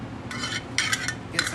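Metal kitchen tongs stirring and twisting cooked pasta into a nest for chicken Parmesan, giving three short bursts of soft metallic scraping and clinking over a low steady background.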